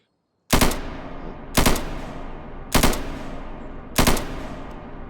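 Rifle gunfire in a VR video game comes as four loud, sharp shots about a second apart, each ringing out with a long decaying tail, with no voices present.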